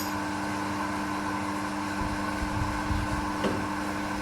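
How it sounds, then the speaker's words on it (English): A surface grinder works across the top side of a metal indexing plate with a coolant mist sprayer running, giving a steady mechanical whir and hum with faint scraping, moderately loud and continuous, with no talking. "now that's given me the datum that I can use to start surface grinding the top side here"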